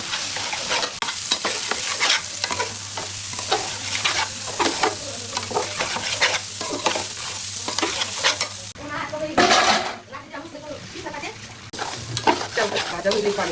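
Pulao rice fries and crackles in a pan while a spoon scrapes and stirs it with repeated metallic strokes. The frying sounds close and continuous, with only a brief shift in texture partway through.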